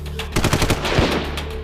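A loud machine-gun sound effect fires rapid bursts of shots that blend into a dense, continuous volley, close and harsh, with no voices.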